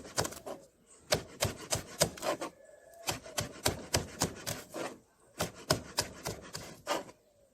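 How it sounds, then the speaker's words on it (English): Onion being finely chopped with a knife on a board: bursts of quick, crisp rhythmic chops separated by short pauses, close and fairly quiet. "So I'm just chopping up the onion as fine as possible"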